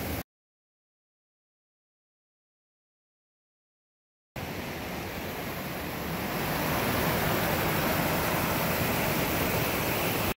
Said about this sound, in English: I am wading hip deep in water